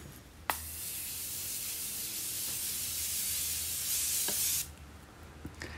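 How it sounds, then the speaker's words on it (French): A continuous fine-mist spray, a scented product, hisses steadily and close for about four seconds, with a small click as the pump is pressed at the start and a few light taps afterward. "Alors oui, c'est un spray continu."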